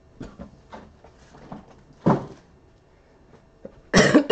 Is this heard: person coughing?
yes